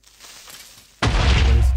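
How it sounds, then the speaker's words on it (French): A loud, sudden Minecraft creeper explosion erupts about halfway through after a quiet low rumble, then roars on with dense, booming low-end noise to the end. "Excusez-moi pour le son de l'explosion qui était un petit peu fort."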